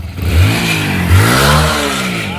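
A motorcycle engine revs twice up close, its pitch climbing and falling with each throttle blip over a steady rumble.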